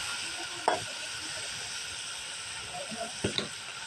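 Gongura egg curry frying in a pan with onions, turmeric, salt and chili powder: a steady, quiet sizzling hiss with a couple of light spoon taps against the pan.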